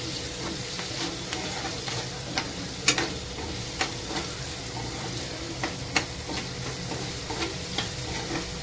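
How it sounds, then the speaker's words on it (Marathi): Onion and curry leaves fry in hot oil in a kadhai, a steady close sizzle with scattered sharp crackles and spits throughout. "हे चांगलं कांदा कढीपत्ता तेलामध्ये चांगला परतून घेऊया."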